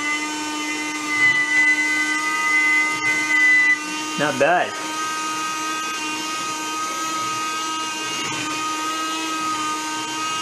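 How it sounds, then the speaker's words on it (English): A Mini Henry desktop vacuum cleaner runs with a steady, close whine and hum throughout, briefly dipping and wavering midway as it sucks up debris, with a short spoken comment over it. "let's see how good this vacuum cleaner can clean up."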